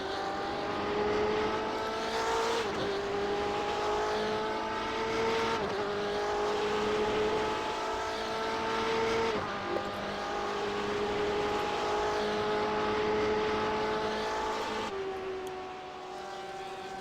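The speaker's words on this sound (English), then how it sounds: "There's Dougherty running in a Porsche there" Race cars, including a Porsche, lapping Monza, heard from the cockpit as an engine whine that climbs through each gear and drops sharply at the shifts, repeating several times without talk.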